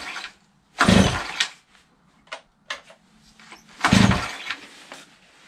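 A Stihl Cutquik TS400 concrete cut-off saw on choke with the compression release out is pulled twice, each pull a loud, close, rough cranking burst, with smaller knocks and clatter in between and no sustained running.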